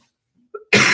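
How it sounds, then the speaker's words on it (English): After near silence, a single sharp cough bursts loudly right into a close microphone and runs to the end. "Excuse me for coughing in the mic like that"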